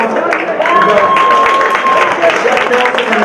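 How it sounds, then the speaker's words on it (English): At a high school Hispanic Heritage Month luncheon, a crowd gives a round of applause, steady clapping and murmuring under someone speaking over it, with a faint whistle-like tone partway through. "A big round of applause to these people that are walking up right now"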